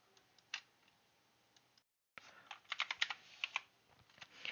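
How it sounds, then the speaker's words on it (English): Computer keyboard typing in a Windows search box: a few scattered key taps, a short silent gap, then a quick close burst of clicking keystrokes, quiet overall. "Here just type in Bluestacks."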